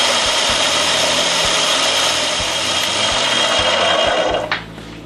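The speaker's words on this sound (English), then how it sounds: "We're going to put this back on, blend this all together." A blender whirs loudly and steadily as it grinds coriander seed and blackening spices, running at high speed for several seconds before abruptly stopping and winding down.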